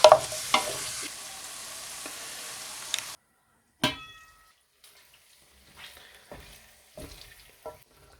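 Aubergine for a potato curry sizzles steadily in a pan for a few seconds, then goes quiet; a ringing metallic clang follows, with a few sparse scrapes and knocks of stirring.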